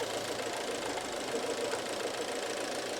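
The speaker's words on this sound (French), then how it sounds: "on va entendre un changement du régime moteur" Fiat/Alfa Romeo Giulietta engine idling steadily with a knocking, mid-pitched hum, captured close and constant, suffering from high oil consumption linked to a faulty PCV valve, with little audible change in engine speed across the short stretch.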